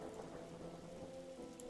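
Steady rain falling in the video game The Division, a soft continuous hiss of drops with a faint low rumble of distant thunder underneath, quiet and without any talking.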